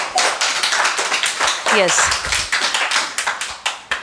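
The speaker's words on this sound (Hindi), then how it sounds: "चलिए, ज़ोरदार तालियां रितिका के लिए।" Audience clapping for Ritika during a Mentor Plus session on children's qualities, fairly loud and spread through the clip, with a voice speaking over it.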